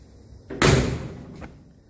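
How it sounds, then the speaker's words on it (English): The door of a 1960 Chevrolet Impala convertible in a body shop after a quarter panel patch repair is opened with a quick latch click, then swung shut with one solid, loud slam and a softer thump after it. "The door opens and closes just like it used to."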